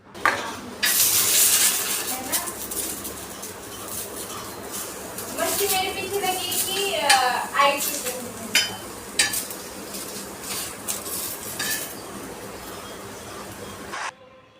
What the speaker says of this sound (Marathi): आता फक्त टोमॅटो भाजायचं बाकी होतं तर ते पण मी पटकन भाजून घेते